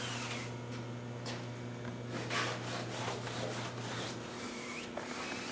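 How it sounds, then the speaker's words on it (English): A foam brush drags finish coat across a fabric-covered aircraft wing in soft, quiet rubbing strokes, faint and uneven, over a low steady background hum. "this is the last of the second coat with a foam brush on this wing"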